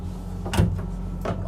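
A drawer in a Renegade Classic 41CRB motorhome slides open or shut. Two short, separate knocks or slides sound at close range over a steady low hum.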